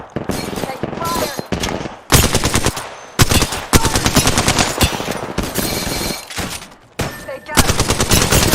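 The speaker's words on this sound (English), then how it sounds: "They're shooting at me!" Gunfire in the video game Apex Legends, loud sustained automatic bursts broken by short pauses, close and dense, filling most of the stretch with rapid repeated shots.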